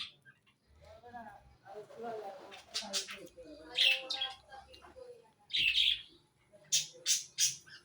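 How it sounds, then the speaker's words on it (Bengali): Short bright bird chirps in clusters, moderately close, interleaved with a person talking. "কত সুন্দর করে পাখি ডাকছে কিচির মিচির করে।"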